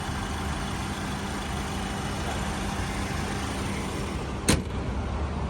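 A 2008 Honda Accord G8 Mugen with a 2.4 engine idles smoothly and steadily, a low continuous hum with a short sharp click near the end and no talking.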